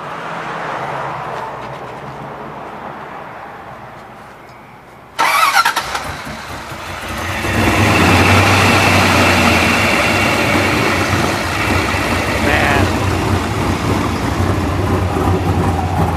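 A Jeep Cherokee with a swapped-in LS V8 engine and Dana axles cranks, catches with a sudden burst, then settles into a loud, steady, rumbling idle that swells and holds close by.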